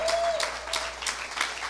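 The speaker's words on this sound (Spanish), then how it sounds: "Alguien da un aplauso en esta tarde." A short burst of applause, a crowd clapping steadily for a couple of seconds.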